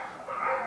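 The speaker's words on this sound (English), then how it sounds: "as the dogs kill each other outside" Dogs fighting and barking outside give a quick burst of rough barking and snarling, fairly loud, with no talk over it.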